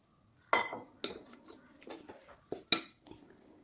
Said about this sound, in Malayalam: നല്ലോണം മിക്സ് ചെയ്ത് ആദ്യം തന്നെ സ്പൂൺ കൊണ്ട് ഒന്ന് മിക്സ് ചെയ്തെടുക്കാം